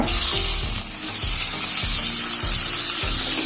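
Sliced onion frying in hot oil in a pan for vangibath, a loud steady sizzle close up, with periodic low scraping knocks as it is stirred.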